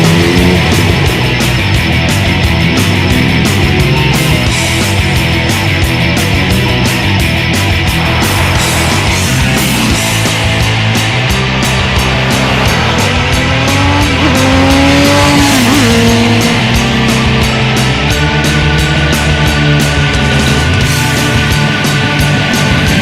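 A Triumph sport motorcycle being ridden produces a loud, continuous engine roar whose pitch climbs and falls as the revs change, with no quiet breaks.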